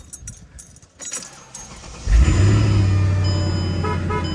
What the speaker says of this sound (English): Let's go ahead, start the car up,